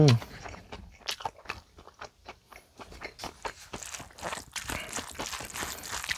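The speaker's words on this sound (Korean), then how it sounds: "된장찌개예요. 먹어볼게요." Someone eating doenjang jjigae, Korean soybean paste stew, with close, soft bites, crunches and chewing in an irregular run, faint at first and growing busier.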